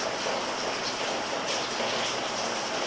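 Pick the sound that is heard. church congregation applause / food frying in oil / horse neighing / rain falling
rain falling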